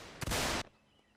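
A short, loud burst of musket gunfire from a Mount & Blade North & South mod line battle, a sharp crack of about half a second followed by a quick fade.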